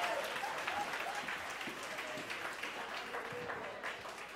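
A church congregation applauds with steady, faint, distant clapping that stays even throughout, with a faint voice underneath.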